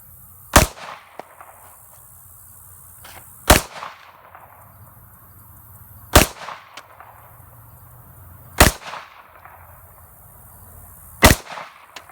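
Five sharp 9mm pistol shots from a Kimber 1911 firing Hornady HAP 115-grain reloads, spaced evenly about two and a half seconds apart in a slow, deliberate cadence, each loud crack followed by a brief outdoor echo.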